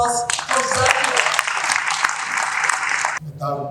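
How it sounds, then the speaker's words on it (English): Applause from a conference audience at a World Bank–IMF meetings event, a dense burst of clapping lasting about three seconds that cuts off abruptly, with a voice speaking briefly before and after. "A round of applause for Zambia."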